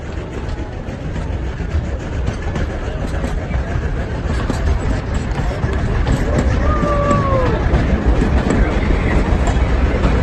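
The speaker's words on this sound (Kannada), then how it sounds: "ಈಗ ಕ್ರಾಸಿಂಗ್ ಇರೋದ್ರಿಂದ ನಮ್ಮ ಟ್ರೈನ್ನ ಸ್ಟಾಪ್ ಮಾಡಿದ್ದಾರೆ" A Georgetown Loop Railroad train in Colorado sits at a road crossing, giving off a loud, steady, close rumble that runs throughout, with faint squealing tones rising briefly near the end.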